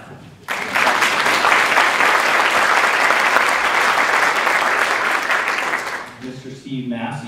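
Loud, sustained applause from an audience at a community awards ceremony, rising abruptly and holding steady for several seconds before fading into a few scattered claps and murmuring voices.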